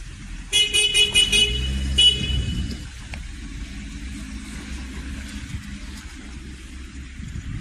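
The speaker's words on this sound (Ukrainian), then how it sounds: "Тачка від'їжджає, нічна продажа." ZAZ Slavuta 1103 car pulling away at night, opening with a loud burst of horn toots, then a steady engine rumble and road noise that fades out.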